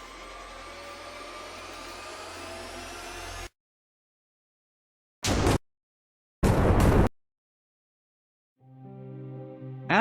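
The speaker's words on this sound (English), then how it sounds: "I heard an explosion behind me." In hardcore modded Minecraft, a loud, roaring blast fills the opening seconds and cuts off abruptly, followed by silence, two brief bursts of noise and a rising game tone at the end.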